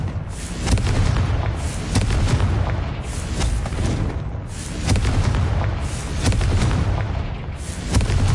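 Confringo blasting spells explode repeatedly in Hogwarts Legacy, loud booming blasts recurring roughly every second or two, each with a rumbling tail, and no talk over them.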